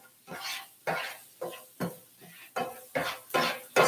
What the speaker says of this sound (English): Stirring that up.